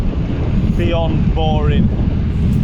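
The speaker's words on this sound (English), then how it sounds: "Somehow the wind is still against us, despite moving away from the coast." Wind buffets cyclists on a road ride, a steady loud roar over the microphone, with a person speaking briefly through it.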